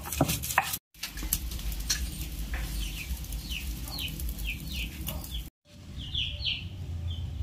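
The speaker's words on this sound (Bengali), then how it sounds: "এখন আমি একই সিলবাটাতে সয়াবিনগুলো বেটে নেব।" Soybeans being ground by hand on a stone slab (sil-bata), a steady rough scraping and rubbing that runs through most of the stretch with two brief silent breaks, while faint bird chirps sound in the background.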